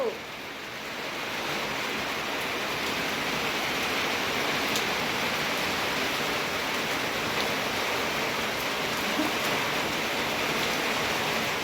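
Steady rain pours down evenly in a continuous broadband hiss, close and fairly loud, with no voices over it.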